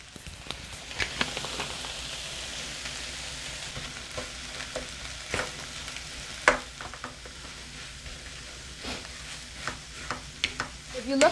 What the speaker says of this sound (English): So what you're hearing is the corned beef frying